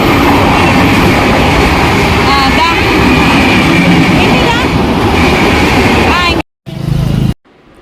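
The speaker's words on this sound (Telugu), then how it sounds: "ట్రైన్ వెళ్ళిపోతుంది" A train rumbles past close by, loud and continuous with rattling wheels and a high whine, then cuts out abruptly near the end.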